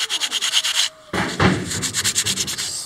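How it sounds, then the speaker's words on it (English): Sandpaper rubs rhythmically over a hand-shaped wooden propeller, a series of quick scratchy strokes close up with one brief pause before the steady back-and-forth resumes. "smooth it out with some sandpaper."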